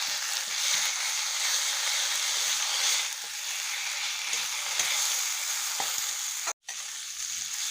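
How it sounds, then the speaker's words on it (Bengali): Ginger-garlic paste and ground coriander frying in hot oil for a crab curry, giving a steady, close sizzling hiss that runs throughout, with a brief cut-out near the end. "আদা রসুনও ভালোভাবে ভাজা হয়ে গেছে।"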